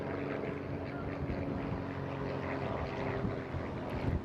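A display aircraft at the Eastbourne International Airshow rolls out of a barrel roll, its engine a steady, distant drone with slight wavering, faint and continuous over open-air ambience.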